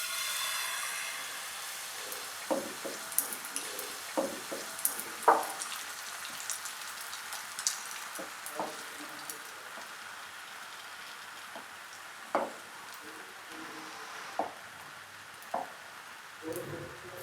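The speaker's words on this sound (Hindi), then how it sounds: "पैन को ऑयल के साथ हल्का सा ग्रीस करेंगे और ये बैटर इसमें डालेंगे" Paratha batter fries in a lightly oiled pan over medium-low flame, a soft continuous sizzle dotted with irregular crackles and small pops throughout.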